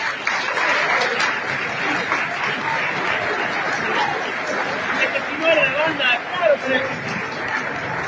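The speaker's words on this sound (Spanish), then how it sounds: "y renovamos el aplauso, vamos a Mari" Sustained applause from a large crowd at a public recognition ceremony fills the clip, a steady wash of clapping with scattered voices and cheers mixed in.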